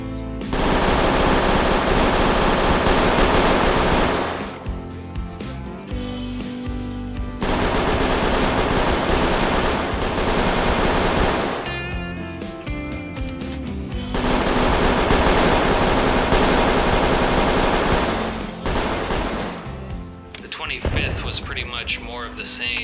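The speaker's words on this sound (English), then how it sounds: "I spent the day using the boombox in combination with the minigun to quickly clear the road of Zeds" A minigun in the video game Project Zomboid mows down zombies in long, dense, continuous bursts of rapid fire, with three sustained volleys separated by brief pauses.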